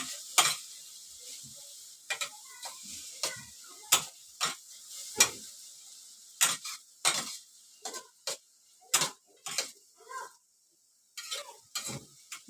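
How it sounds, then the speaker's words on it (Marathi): A spatula repeatedly scrapes and stirs shepu (dill) bhaji with moong dal in a pan, in quick irregular strokes with a soft sizzle underneath, close up and with no talking. "आणि चांगलं डावून घेते हे बघा"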